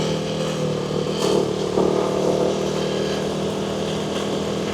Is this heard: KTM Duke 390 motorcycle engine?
yes